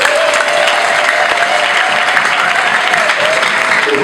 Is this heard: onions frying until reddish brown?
no